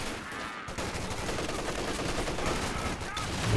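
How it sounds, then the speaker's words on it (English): A .50 cal machine gun fires in Company of Heroes 2 during a 2v2 match, a dense unbroken burst of rapid gunfire filling the whole stretch over loud battle noise. "50 cal suppressing his squads"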